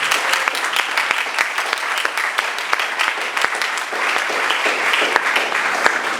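A church congregation at a Sunday service claps and cheers in praise, with dense, steady applause filling the space and voices mixed into the crowd noise.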